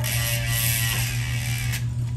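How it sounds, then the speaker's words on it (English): A Specialized Tarmac SL7 road bike, bone dry and unlubricated, is shifted into the middle gear, with close ratcheting and clicking drivetrain sounds over a steady mechanical whir. "we're going to put it into the middle gear"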